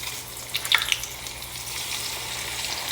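Food is lowered into hot grease in a home kitchen, bringing a brief burst of crackling pops followed by a steady, close hiss of frying.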